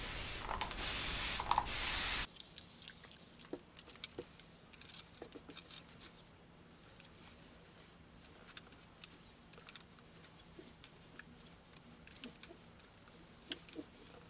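Starch is sprayed onto folded quilt background fabric in a short loud hiss, followed by quiet handling sounds, soft rustles and light taps in a calm room.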